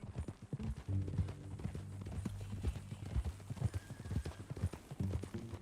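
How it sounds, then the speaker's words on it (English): Horse hooves clip-clopping in Red Dead Redemption 2, a steady walking rhythm of close hoofbeats with occasional snorting, under game dialogue. "That new horse?"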